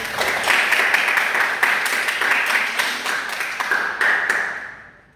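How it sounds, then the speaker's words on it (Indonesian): A junior high classroom claps for a student, a sustained round of fairly close hand claps with distinct sharp strikes, steady for several seconds before fading out at the end. "tepuk tangan untuk Gea"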